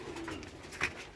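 Pigeons in a pigeon loft give a brief, soft coo, faint against a low background hum, without any talking.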